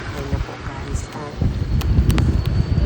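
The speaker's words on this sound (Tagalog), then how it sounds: "Ang lakas na ng hangin." Wind gusts at an outdoor bus stop area near a walkway rise to a steady rushing buffet halfway through, with someone speaking over it.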